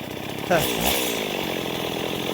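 A Grass Gator trimmer engine whines steadily, then bites into thick weeds about three quarters of an inch across, its pitch dipping briefly under the load. The burst is short and close.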